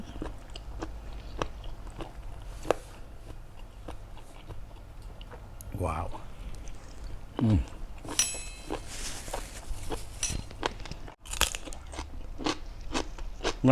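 Crunchy bites and chewing of fresh steamed squid with a seafood dipping sauce, close and steady, repeated bites at a regular pace with occasional louder crunches, a voice speaking briefly in the middle.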